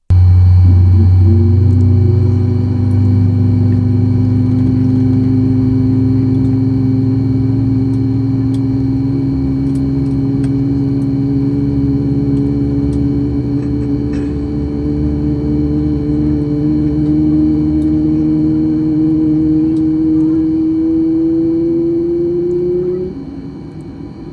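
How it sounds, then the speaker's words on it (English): CFM LEAP jet engines on a Southwest Airlines airliner drone loudly and steadily from inside the cabin after pushback, a low rumble with a slowly rising whine before dropping off near the end. "And now enjoy the sounds of those CFM LEAP engines."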